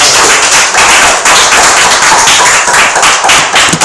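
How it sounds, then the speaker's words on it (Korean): Congregation clapping in a church after a prayer, dense steady applause from many hands filling the space, loud and continuous with no talk. "하나님께 영광의 박수 올립시다."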